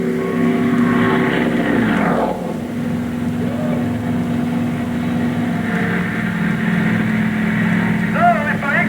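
Sukhoi aerobatic airplane at an Oshkosh EAA air show, its engine droning loudly and steadily with a falling pitch sweep early on as it passes, then a sustained roar with rising whine near the end.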